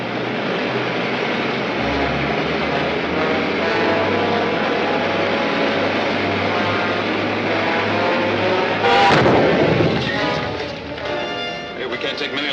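A ship's gun fires in a 1950s sci-fi serial: one sharp blast rises out of a steady engine drone near the end, then fades.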